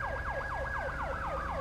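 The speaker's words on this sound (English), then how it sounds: "There's another ambulance rolling in, too." An ambulance siren in a police video game, a fast rising and falling electronic wail repeating steadily about every quarter second, fairly faint and heard alone over a low engine hum.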